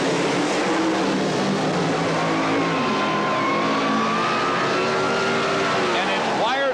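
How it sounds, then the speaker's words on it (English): A 1923 Model T Roadster drag car launches down the strip in Pro Comp Eliminator at the 1977 NHRA Springnationals, a loud sustained engine roar under a race announcer's commentary. "this 1923 Model T Roadster driven by Ron Boggs of Columbus, Ohio"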